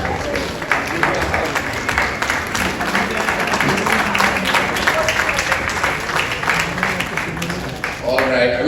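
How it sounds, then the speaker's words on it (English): Applause and crowd noise at a book launch fill the whole stretch, steady and dense, with voices talking over and through the clapping. "She doesn't need to hear any more applause"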